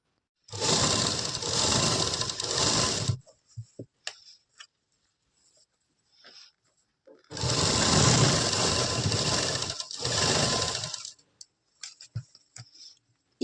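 A sewing machine stitches elastic gathering into a salwar in two long runs of steady whirring, each about three seconds long, with brief quiet handling sounds between them.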